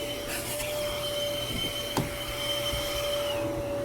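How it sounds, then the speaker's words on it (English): Vacuum cleaning a car's interior with a shop-style vacuum, a steady close whine with a constant high tone, occasional knocks and scraping as the nozzle moves over surfaces, no talking. "I don't think people want to watch me vacuum"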